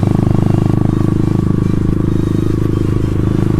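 Yamaha Byson motorcycle engine idling and revving through an aftermarket exhaust, a close, loud, steady burbling throb with rapid pulsing firing beats.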